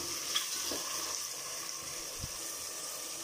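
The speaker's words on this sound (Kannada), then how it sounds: "ಮಶ್ರೂಮ್ನ ನೀವು ಚೆನ್ನಾಗಿ ಎಣ್ಣೆಲಿ ಫ್ರೈ ಮಾಡ್ಕೊಬೇಕು." Mushrooms fry in oil in a pan over a medium gas flame, making a constant soft sizzle with a couple of faint stirring knocks and no speech.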